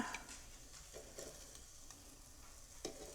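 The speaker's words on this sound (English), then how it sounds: "I don't know if you can hear it sizzling" Soft, steady sizzling of food frying in a pan, with a few light scrapes and clicks of utensils moving it around.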